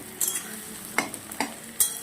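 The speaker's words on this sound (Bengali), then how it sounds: "পেঁয়াজটাও ভাজা হয়ে যাচ্ছে" Potatoes and onions fry in oil in a wok, a close sizzle punctuated by four or five sharp scraping stirs of a spatula.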